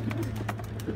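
Young pigeons coo at a trapdoor loft, soft low throaty calls repeating close by against a steady background hum.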